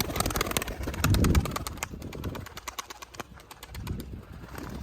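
A tumbler pigeon flaps its wings and flutters in rapid bursts of close, soft wingbeats, with a short lull in the middle before the flapping picks up again.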